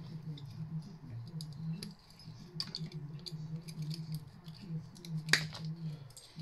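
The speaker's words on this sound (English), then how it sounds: "Bit of wire on it, cut the wire off." Snips cutting wire off scrap brass sections, a series of small crisp clicks and metallic snaps over a low background hum, with one sharper clack near the end.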